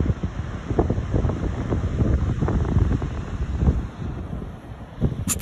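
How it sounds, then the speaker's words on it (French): Wind buffeting the microphone over ocean surf on a black sand beach at sunset in New Zealand's North Island, a loud rumbling wash with waves swelling and easing. "Sable noir, sunset, vent, vagues."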